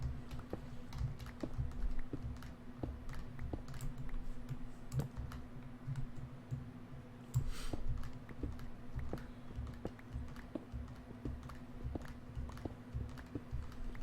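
Typing on a computer keyboard fitted with nicer key switches: a steady run of distinct clicking keystrokes, close and fairly quiet, with a low steady hum underneath and no talking.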